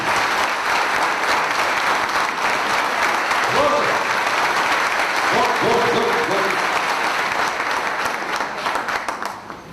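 An audience claps loudly for Gopal Shetty at a talk show, a dense sustained wash of applause filling the whole stretch, with brief voices rising over it midway before the clapping tapers off.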